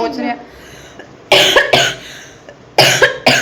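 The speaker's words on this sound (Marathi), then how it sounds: "माझा खोकला एवढा वाढलेला आहे ना जबरदस्त" Harsh coughing in two pairs of bursts, close and loud, separated by short quiet gaps.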